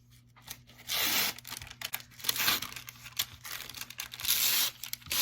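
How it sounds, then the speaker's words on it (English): Paper backing is peeled off fusible web on fabric, giving a series of crisp tearing and crinkling rips at close range, in bursts with short pauses and no voices. "So you're going to pull all the paper off."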